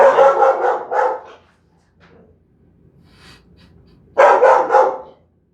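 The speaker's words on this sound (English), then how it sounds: "if you're on the other side of the dog, that dog sounds terrifying" A dog barks in two loud, close bursts of several rapid barks each, separated by a quieter pause with faint background noise.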